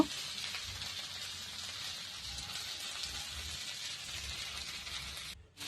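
Ingredients fry in a pan on a gas stove, a soft, steady sizzle and crackle running continuously at low level, close and alone with no voices, ending in a brief dip.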